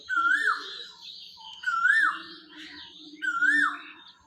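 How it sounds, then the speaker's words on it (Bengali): An Asian koel calls from a tree in a rural mustard-growing area, repeating its rising, whistled cry three times at steady intervals, fairly close and clear over faint background birdsong. "এদিকে কোকিলের ডাক শোনা যাচ্ছে।"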